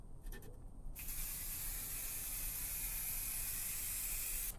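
Aerosol spray paint hisses steadily from a nozzle onto a floor jack, a close, continuous airy spray after a brief opening burst, with no talking.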